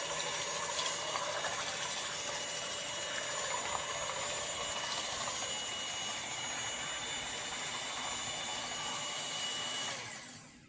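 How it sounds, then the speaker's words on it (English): An electric hand mixer with its whisk attachment beats four eggs in a bowl, giving a steady, loud motor whir with a high whine that runs unbroken for about ten seconds before cutting off at the end. "I'm going to model how to whisk the eggs using the attachment and the machine"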